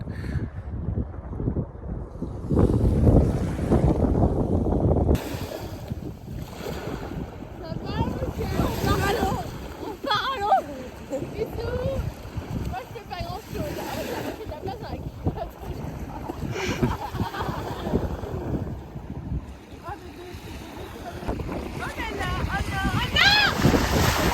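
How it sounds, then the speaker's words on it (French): Strong wind on a beach in Cullera, Spain buffets the microphone in gusty, rumbling bursts, with water and waves washing in the background and a voice speaking at times. "il y a beaucoup de vent, je sais pas si vous avez entendu"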